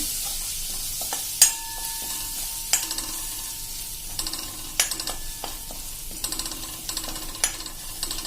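Gram flour stirred in a pan with a spoon, giving scraping, clicking strokes at an irregular rhythm over a faint sizzle, close and fairly quiet, with no talking.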